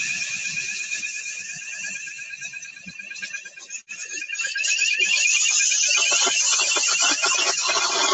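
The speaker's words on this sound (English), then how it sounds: "We'll give you the alarm now" A fire alarm from an in-panel fire suppression system sounds continuously during a live product demonstration, a loud, steady high-pitched electronic warbling tone that swells louder partway through, with faint voices underneath.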